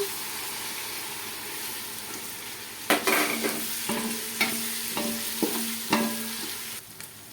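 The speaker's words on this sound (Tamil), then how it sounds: "இப்போ இது நல்லா வெங்காயம் வணங்கிடுச்சு இந்த நேரத்தில் நம்ம புதினா தலை போடுவோம்" Onions and mint leaves sauté for mutton biryani, a steady sizzle in the pan broken by a series of sharp spoon scrapes and clacks as the mixture is stirred; no voices.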